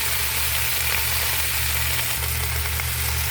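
Kangkong (water spinach) fries uncovered in a garlic sauce with shrimp paste, giving a loud, dense, continuous sizzle up close over a low steady hum, with no one speaking.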